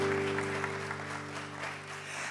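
Applause for a church music team, a one-man band, at a Unity San Francisco service, a steady wash of clapping sustained throughout, with a low organ-like drone running underneath.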